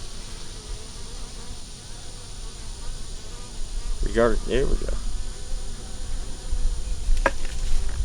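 Honey bees buzz in a steady, close swarm at an opened hive while a person speaks briefly over the droning.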